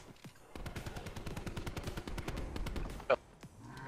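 Automatic and rapid gunfire at zombies in the Black Ops 4 Blackout battle royale game, a dense sustained burst of shots lasting several seconds, followed by a sharp loud report and a quieter tail.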